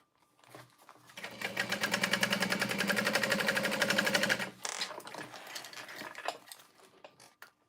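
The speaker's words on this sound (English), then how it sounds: "I'm just gonna sew opening shut" A sewing machine sews a bag opening shut, running in one loud, steady, rapid-stitching burst of a few seconds up close, followed by quieter mechanical handling noises.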